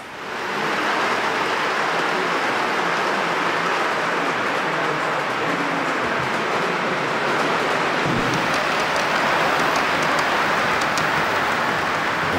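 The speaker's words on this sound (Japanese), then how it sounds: "ゴトンゴトンと列車がレールのつなぎ目を走る時の音、まさしくこれ本物と同じ響きです。" Model train wheels rolling over rail joints on a layout at the Hara Model Railway Museum, built with realistic track and wheels, making a steady continuous rumble with a few soft clunks, loud and close.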